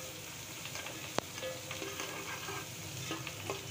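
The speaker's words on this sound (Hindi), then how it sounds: "सारी सब्ज़ी को शामिल करना है और हल्का सा सौते करना है लहसुन को" Vegetables and garlic sauté lightly in a pan for egg fried rice, giving a steady close sizzle and frying hiss. A single sharp clink sounds early on. No one speaks.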